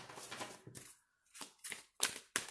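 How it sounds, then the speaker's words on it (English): Tarot cards being shuffled in short, crisp riffling bursts, about five separate close shuffles with brief pauses between them and no talking. "One more shuffle."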